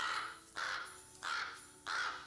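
A pet bird in the 1992 film Doctor Mordrid caws three times at an even, unhurried pace, each harsh call clear and fairly close over a quiet room background with no talk.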